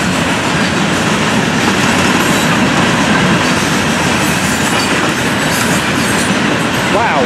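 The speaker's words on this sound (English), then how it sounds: "Take a look at this train." A freight train rolls past close by on the rails, a loud, steady roar of wheels and rattling wagons that continues throughout, with a faint wheel squeal near the end.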